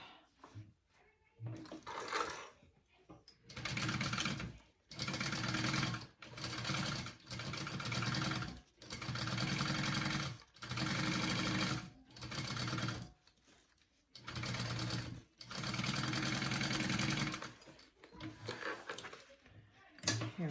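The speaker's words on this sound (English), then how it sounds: "And then I'm going to top stitch that." A sewing machine top stitches a seam on a bag in repeated bursts of fast, steady mechanical stitching, each a second or two long, separated by short pauses.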